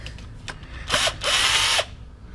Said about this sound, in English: So we'll just loosen up the little nuts